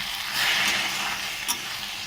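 Drumstick flowers frying down in a pan, a bright steady hiss of sizzling with one sharp stir or tap near the end, briefly loud and close.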